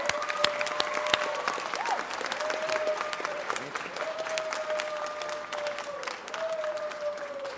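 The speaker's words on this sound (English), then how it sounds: "Give him a round of applause." Applause from an audience at a city council meeting for a two-time Grammy winner, steady and moderately distant, with a voice speaking over it.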